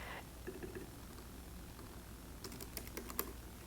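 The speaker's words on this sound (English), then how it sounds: "I'm gonna type in the words that I want over here." Words are typed on a computer keyboard in a quiet room, with a few soft keystrokes early on and then a quicker burst of close, light clicks.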